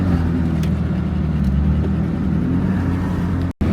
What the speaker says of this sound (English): It's a pretty ridiculous convoy of cars right now.